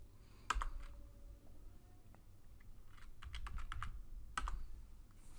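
Password being typed on a computer keyboard, a quiet run of soft key clicks in small irregular bursts with pauses between, close but faint over low background hum.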